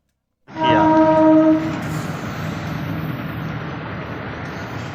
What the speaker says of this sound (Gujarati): ફાટક બંધ હતી તો આ છે બિલડી ફાટક અહીંયા ટ્રેન આવવાની છે